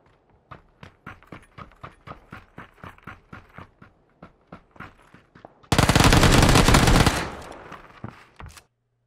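Gunfire in the battle royale video game PUBG: a rapid series of sharp, evenly spaced shots, then a dense, loud burst of continuous fire lasting over a second, followed by a few scattered final shots.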